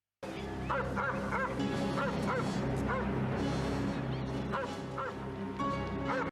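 A dog in a TV drama, several short barks and yips with a little whimpering over steady background sound, with faint talking underneath.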